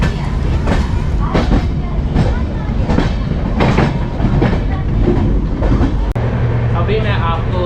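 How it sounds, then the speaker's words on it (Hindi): An Amritsar–New Delhi Shatabdi train running after leaving Ambala Cantt, its steady onboard rumble and rhythmic wheel clatter going on throughout, with passengers' voices mixed in. "हमारी ट्रेन अम्बाला कैंट से चल चुकी है।"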